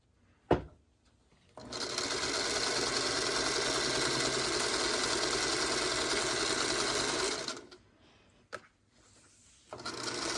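Sewing machine stitching strips of a quilt block, a loud steady mechanical whir running for about six seconds after a brief click, then stopping with a few short taps and restarting at the end.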